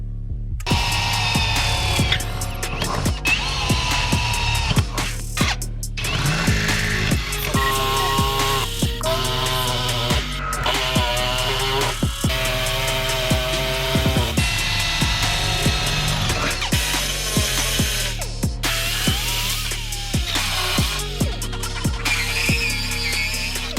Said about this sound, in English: We're gonna use a combination of like a drill, a die grinder, and an air saw to cut a nice hole.